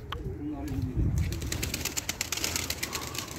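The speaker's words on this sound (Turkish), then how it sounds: "Bunlar da hiç uçmayan kuşlar ha, yer kuşu" Tumbler pigeons kept as ground birds coo in a loft or yard, with soft low cooing over dense flutter and nearby chatter, while voices talk throughout.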